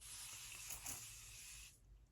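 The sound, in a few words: Avene face spray misting onto skin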